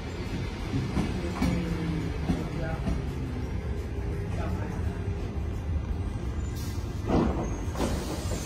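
Train at a Zurich rail station, a continuous low rumble with faint clatter and occasional higher squeals, steady and moderately loud throughout.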